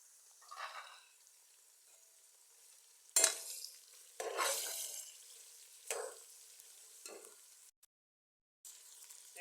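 Chicken pieces for a chicken and spinach curry hit hot oil and are stirred in the pan, with several bursts of sizzling and scraping separated by quieter frying, all close by and without speech.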